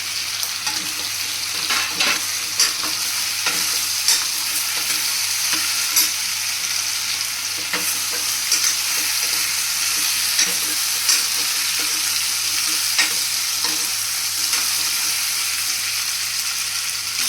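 Eggplant sizzles steadily in a hot pan with potato, with occasional scraping and clicking of a spoon stirring it, close and continuous.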